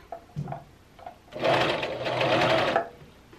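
Serger sewing a neck band onto a knit garment: a few soft handling sounds, then a loud close burst of fast continuous stitching for over a second before stopping.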